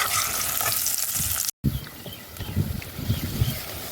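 Sweet corn and eggs cooking in a pan for a Jamaican recipe, a loud steady sizzle and frying hiss with scraping stirring sounds, a brief cut partway through, no talking.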